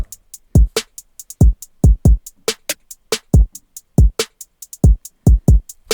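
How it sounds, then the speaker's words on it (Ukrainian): A punchy hip-hop drum beat with booming kicks and crisp snares over steady hi-hats, loud and clean in a repeating groove. "Драмко звучить ось так."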